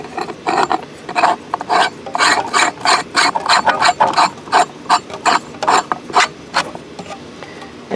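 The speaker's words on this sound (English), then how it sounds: "then we're gonna put this part and screw it on" Rhythmic rasping and ratcheting as a projector is screwed onto a Whelen siren speaker driver, a close series of repeated scraping twists of metal and plastic threads, loud and alone without talk.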